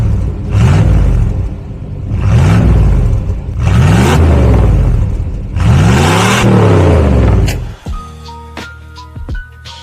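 A five-metre Chevrolet Caprice V8 revs hard four times in a row, each deep, loud swell rising and falling, before it settles into a lower, steady idle with faint clicks.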